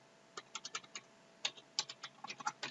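Soft, sparse clatter of a computer keyboard as an address is typed, with small bursts of keystrokes separated by short pauses, close but quiet with no speech.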